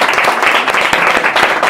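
Audience applause at a talk, a steady dense patter of many hands clapping close by, continuous and loud throughout without voices over it.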